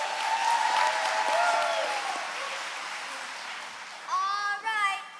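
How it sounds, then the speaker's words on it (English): An audience at a Christmas Carol stage performance breaking into applause, a broad wash of clapping that fades out, followed by a few high children's voices and a short renewed burst. "Let me hear you clap if you think we can."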